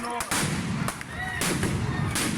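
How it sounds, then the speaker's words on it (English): Police flashbang grenades bursting during a protest confrontation with demonstrators in Seattle: several loud booming blasts in quick succession over a constant roar of crowd noise and distant shouting. "flashbang grenades were used by police in riot gear in Seattle in a confrontation with demonstrators"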